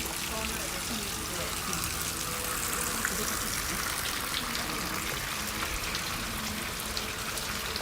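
Water pours and splashes at the hand-washing basin of Omiya-Hachimangu Shrine in Tokyo, a steady close gush running without break for several seconds.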